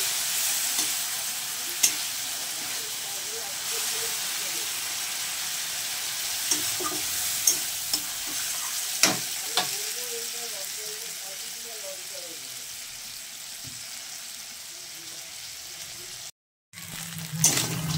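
Tomato sizzles in a pan of frying onion, garlic and ginger for a crab dish, with steady hissing oil, scattered clicks of a stirring spoon and someone talking over it; the sound cuts out briefly near the end.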